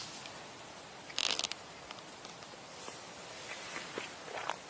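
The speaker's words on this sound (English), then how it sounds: "the footsteps grew louder, circling the tent" Footsteps outside a tent at night, scattered soft crunching steps with one louder burst of rustling, faint and irregular against quiet background hiss.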